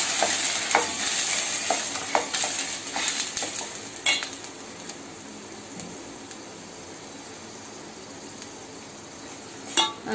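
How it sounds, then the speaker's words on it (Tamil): Onions sauté in a pan at low flame with a continuous sizzle, broken by repeated scraping clinks of a metal spoon stirring against the pan. The clinks are busy at first, thin out, then return briefly at the end. No one speaks. "ஏன்னா வெங்காயம் போட்டு வதக்கணும்."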